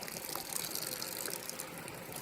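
Water gushes and splashes steadily as it is poured out of a small container holding a stream salamander, close and fairly quiet, with no voices.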